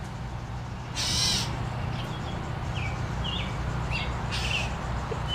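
Two short, bright bird calls about three seconds apart, with faint chirps between them, over a steady low rumble of outdoor background noise.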